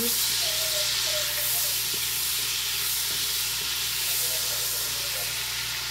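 Garlic and butter sizzling in a pan as they are stirred while cooking mussels, a loud, steady close hiss with faint scraping, and a voice speaking softly beneath it.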